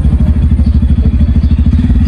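A motorcycle engine runs close by at a steady idle, throwing out a rapid, even train of low thumping pulses with a faint clatter on top, and nobody speaks.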